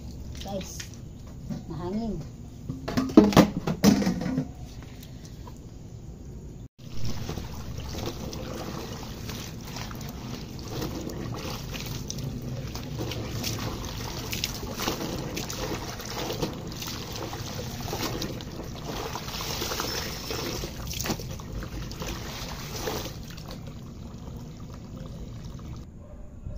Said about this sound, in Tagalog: Dito sa taas guys, mahangin.